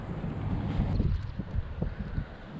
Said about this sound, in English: Said it was supposed to be only like 10-mile-an-hour winds